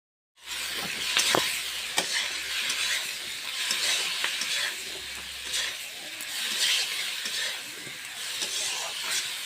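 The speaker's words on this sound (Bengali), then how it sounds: "এই বেগুনটা খালি ভাজাই করব আমি, পেঁয়াজ কাঁচা লঙ্কা নুন হলুদ দিয়ে।" Eggplant frying in a pan for a simple fry with onion, green chilli, salt and turmeric: a steady, close hissing sizzle with occasional spatula scrapes and crackles, no voices.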